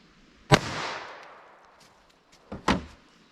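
Two sharp .22 Long Rifle gunshots from CCI Uppercut ammunition fired into ballistic gel behind MDF, each a crisp crack with a short decaying tail, spaced about two seconds apart.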